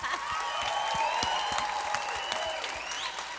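Audience applause for an opening act at a live show, steady clapping from a crowd lasting a few seconds, moderately distant with no talk.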